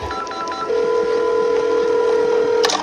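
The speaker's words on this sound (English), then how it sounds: "I frantically dialed 911." Telephone keypad dialing 911, a quick run of DTMF key tones followed by a long steady tone, loud and close with no talk over it.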